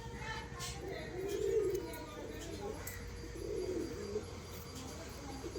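Pigeons, including Dobaj hens with clipped wings, coo in low, soft rounded bursts that rise and fade over a steady background hiss, with faint chirps and a murmuring voice in the distance.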